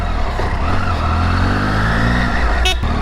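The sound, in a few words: Triumph Tiger 800 XCx motorcycle being ridden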